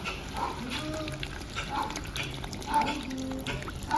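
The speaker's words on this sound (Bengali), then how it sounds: "জলটা একটু বেশি দিচ্ছি।" Water poured into a pan of frying chicken curry with diced potatoes in oil, giving a soft continuous trickle and gentle sizzle heard close but fairly quiet throughout.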